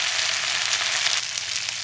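Minced meat with onion and Chinese cabbage fries in a pan, giving a loud, steady, close hiss of sizzling that holds evenly throughout, with no voices.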